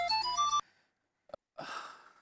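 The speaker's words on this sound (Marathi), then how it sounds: "अरे सिद्धार्थचाच फोन आहे." A phone ringtone from a Marathi TV serial scene: a loud, bright melodic tone of several short notes lasting about half a second, then silence, a brief click, and a burst of muffled noise.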